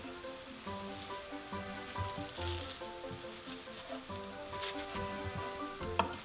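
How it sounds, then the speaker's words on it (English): Roughly chopped spinach sizzles and wilts in a hot oiled pan, a steady close crackle and hiss carrying on without pause, with a faint tonal hum in the background. "I roughly chop some spinach and then toss it in the pan."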